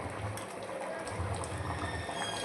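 A pot of mutton head curry simmers on the stove, giving a steady low bubbling and watery burble, close and moderately loud throughout, with no voices.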